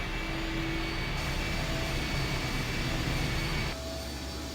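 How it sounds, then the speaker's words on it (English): Machinery engine in the I Have No Mouth, and I Must Scream game running up, a loud steady droning roar with a sustained whine that drops slightly toward the end, no talk. "I'll be damned. The engine's starting up again."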